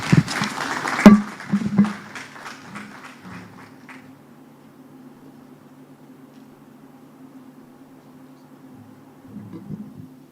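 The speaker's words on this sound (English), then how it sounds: "Can I have a more sustained clap for Lady J?" A workshop audience applauds in a burst that peaks early and quickly fades to a few scattered claps. A long, quiet stretch with low hum follows.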